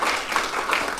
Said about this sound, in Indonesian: Sekali lagi kita berikan tepuk tangan buat mereka.